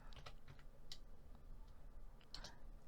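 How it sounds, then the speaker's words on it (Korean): Calculator keys pressed in a series of light, quick clicks, several taps close together against a quiet room hiss, with no talking. "계산기를 눌러서 33만원"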